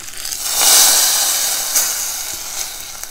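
Asafoetida powder is added to a curry sizzling in a pan while making mochai and pumpkin kuzhambu. A steady, fairly loud hissing sizzle swells and slowly eases, with a few faint clicks and no talking.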